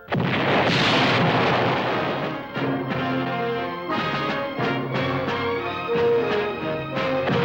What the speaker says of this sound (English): You're about to explode the bridge.